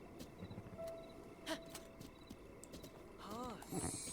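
Horse hooves clip-clop steadily in Zelda: Breath of the Wild, a soft, even rhythm under game ambience, with a short whinny near the end.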